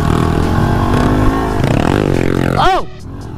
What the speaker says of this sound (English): we're just gonna let the bikes warm up and figure out where to go